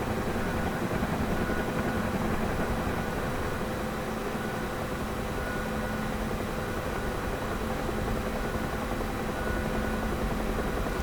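A UH-1 Huey helicopter in the DCS World flight simulator, flying over Beirut, Lebanon, and picking up speed as the airframe starts to shake, gives a steady, loud, unbroken turbine-and-rotor drone with a humming tonal edge, heard alone without talk.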